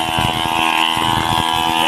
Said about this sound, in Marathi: बघा पोरग कसं चालवतंय पंप.